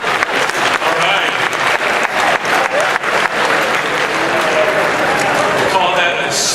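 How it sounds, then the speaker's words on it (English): A live audience at the UA Game 2019 applauds as the evening's master of ceremonies is welcomed, a steady wash of clapping with some voices mixed in, fairly loud and close throughout. "We'll call that a smattering round of applause."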